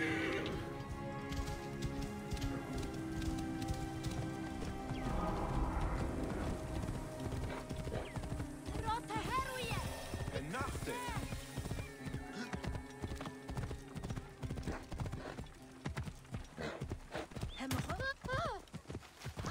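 A horse in the video game Assassin's Creed Origins clip-clops at a steady pace with repeated hoof beats and a neigh, while people talk over it.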